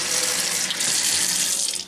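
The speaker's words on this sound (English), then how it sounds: "I'm just going to put a little bit of water in the bottom" Water pours steadily into the bottom of a container set out as a beer trap for garden slugs, a loud close splashing rush that runs unbroken for about two seconds and then eases off.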